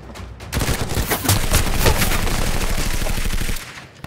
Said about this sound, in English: I shoot at the enemy, then you run.